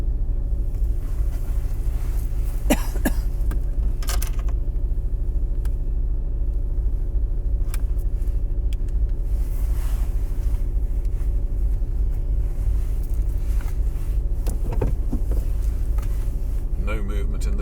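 Steady road traffic on the Paseo Maritimo seafront road in Palma de Mallorca, a continuous low engine rumble from idling and slow-moving cars with a few brief louder passing sounds, under faint talk.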